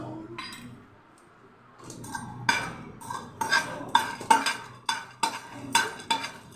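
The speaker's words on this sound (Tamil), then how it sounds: "இப்போது இதே பேனில் நம்ம ஏலக்காவை ஆட் பண்ணிக்கலாம்." Cardamom pods dry-roasting in a pan, stirred with a utensil: a string of light rattling scrapes and clinks that grows busier after a quiet start, close and fairly clear with no talking.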